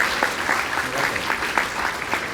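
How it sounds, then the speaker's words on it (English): A lecture hall audience gives a steady round of applause, with many hands clapping densely and evenly for the whole stretch. "Can we just give him an enormous round of applause?"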